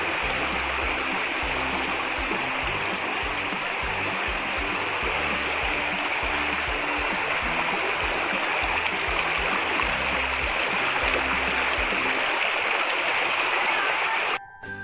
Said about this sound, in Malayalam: ആ ഒരു വെള്ളച്ചാട്ടത്തിൻ്റെ ശബ്ദം